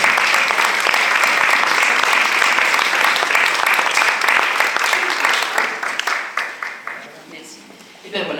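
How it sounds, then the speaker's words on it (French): An audience applauds at an art exhibition opening in a cinema-theatre. Loud, dense clapping sustains for several seconds, then thins into scattered claps, and a voice starts at the very end. "On peut l'applaudir."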